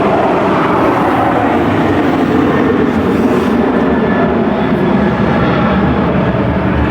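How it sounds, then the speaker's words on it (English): A jumbo jet roars steadily overhead, a loud, continuous broadband rumble and whoosh that holds without a break for several seconds, with no voices over it. "And a jumbo jet, are you joking?"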